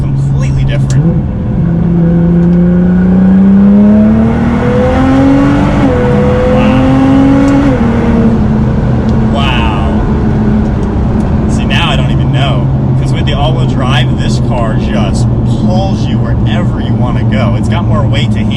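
A twin-turbocharged car accelerates hard as the boost comes in, its engine note climbing steadily, loud and close, while a voice speaks over the sound.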